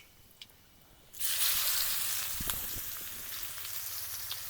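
Two chopped onions hit hot oil already fragrant with lightly fried black cumin, bursting into a loud, steady hiss after a quiet moment, with occasional crackles and pops continuing close up.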